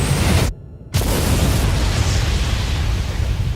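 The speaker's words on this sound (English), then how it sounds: "This also causes the entire planet to explode." A planet blows apart in the video game Star Fox Assault: a loud, dense roaring explosion cut by a brief gap, then a sustained heavy rumble of destruction.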